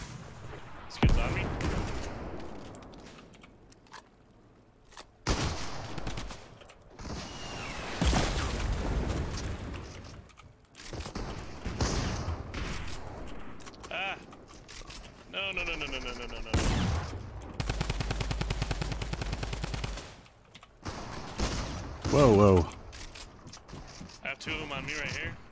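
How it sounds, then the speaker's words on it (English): Fortnite drum gun and other weapon fire in a chaotic fight: rapid bursts of gunfire and booms mixed with game effects, with a player talking over much of it. "Oh, somebody had the drum gun."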